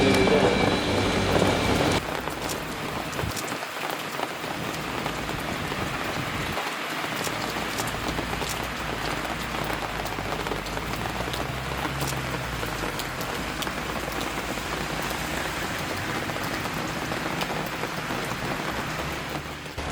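Steady rain falling on a street in Spain, a dense close hiss of drops on pavement with a brief low rumble early on, continuing unbroken throughout.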